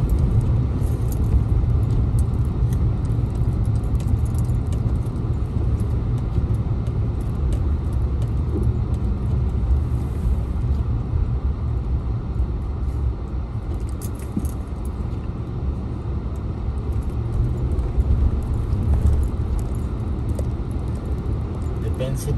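Steady road rumble and tire noise from a car on Michelin tires driving slowly over slippery wet snow, a constant close drone with faint rattles, under occasional talk.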